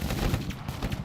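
Rapid bursts of gunfire in the video game Sovereign Syndicate, a dense rattling fusillade with overlapping shots, steady and fairly loud throughout with no talk over it.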